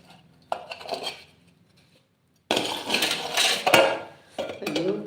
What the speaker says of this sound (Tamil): அங்க என்ன பாத்திரம் உருளுது? இல்ல நான் தான் ஆம்லேட் போட்டிருக்கிறேங்க.